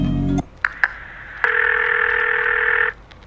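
A phone rings in a video game about a delivery service, first a couple of short blips, then one long, steady electronic ring tone, clear and close with no talk over it.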